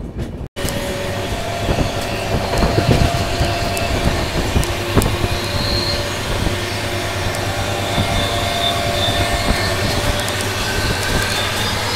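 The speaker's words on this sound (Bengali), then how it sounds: "ছেড়ে দিল আমাদের ট্রেনটি বারেলি জংশন স্টেশন থেকে।" A long-distance passenger train pulls out of Bareilly Junction station, its steady rumble and rattling wheels loud and continuous from onboard, with faint clanks scattered through.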